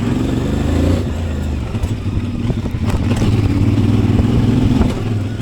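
A new CF Moto 450MT motorcycle is ridden steadily on an enduro loop on the Sunny Coast, with a loud, continuous engine drone, rough clattering from the terrain, and occasional rises in revs.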